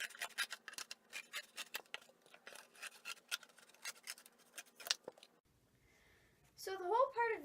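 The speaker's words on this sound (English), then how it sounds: "we're going to cut off these two side flaps on these fold lines" Scissors snip and crunch through side flaps of a cardboard piece along fold lines, a quick run of close, crisp cuts, then a pause and a brief scraping rustle.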